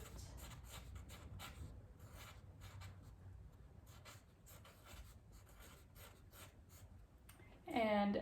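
Pen writing a title on the back of a painting, faint, close scratchy strokes in short bursts with pauses, a voice briefly speaking at the very end.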